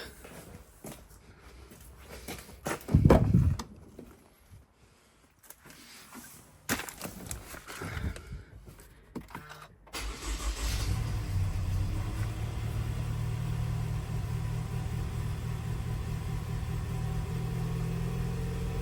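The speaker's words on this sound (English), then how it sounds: "Let's get this car started." A Toyota engine with a Valvematic system and a P2646 rocker arm actuator fault is cranked over and catches, then settles into a steady, fairly loud running rumble that continues to the end.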